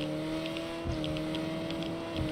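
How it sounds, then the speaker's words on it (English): Saints Row car engine roaring steadily under a full nitrous boost, a sustained loud drone with faint rhythmic ticks above it and two brief low thumps. "Full nitrous burn."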